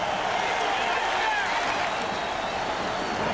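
Large stadium crowd at an NFL game, Jaguars at Oilers, a sustained, distant roar of cheering with scattered applause, steady throughout under a broadcast commentator's voice.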